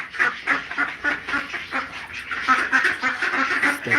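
Several ducks quack repeatedly and loudly nearby in a rapid, overlapping chorus of nasal calls that continues throughout, with no talk.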